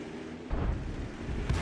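A tank gun fires in a World of Tanks-style battle, probably from an M44 artillery piece. A low, heavy boom lands about half a second in over a steady rumbling background, with a second, smaller thump near the end.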